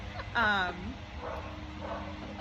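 A dog barks once in a short yelping burst close by in a backyard where yard work is going on, with someone talking over it and steady outdoor background noise.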